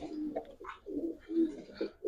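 Young Super Mili pigeons cooing close by, a few soft, low, rolling coos in quick succession with no other sounds around them.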